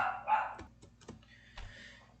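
A dog barks indoors in short, sharp bursts at a moderate distance, with a few separate yaps spread across a couple of seconds against a quiet room.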